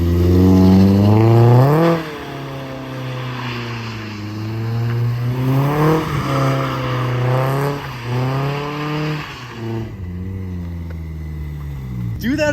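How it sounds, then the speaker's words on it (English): A car engine revs and climbs repeatedly during a driving lesson, its pitch rising and falling in loud, sustained surges with a brief lull near the end, close to the listener. "You gotta be higher in the revs."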